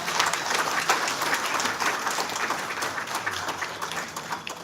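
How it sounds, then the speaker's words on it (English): An audience at a formal oration claps for a guest speaker, with a moderately loud, steady round of applause from many hands that gradually thins out over several seconds. "I would want you to put your hands together to give a big round of applause to our guest,"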